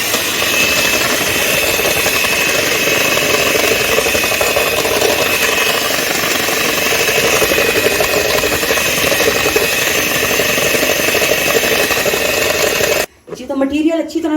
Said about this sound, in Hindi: तो अब इसको हम 2 मिनट के लिए बीट करते हैं।